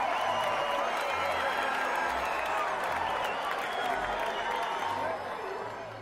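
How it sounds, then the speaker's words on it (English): Baseball fans at a home-team win cheering and clapping as a background crowd effect, a continuous, moderately faint roar of applause that fades toward the end. "Everyone cheers."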